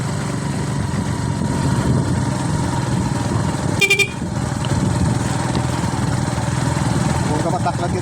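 Motorcycle engine droning steadily while riding slowly along a rough downhill barangay road, a close, continuous low rumble with a brief horn-like beep in the middle.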